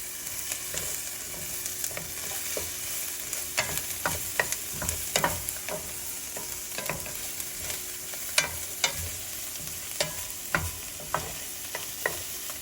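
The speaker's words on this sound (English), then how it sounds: "we're just going to stir that for about a minute or so until it gets good and fragrant" Minced garlic sizzles in a hot pan, a steady frying hiss broken by repeated scraping clicks of a utensil stirring, close and without talk.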